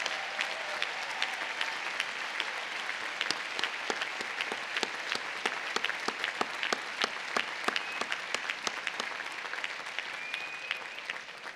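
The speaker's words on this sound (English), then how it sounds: "Will our faculty please rise and receive our applause" A commencement audience at Bryant University applauds the faculty, a sustained, moderately distant wash of many hands clapping with sharp individual claps standing out throughout.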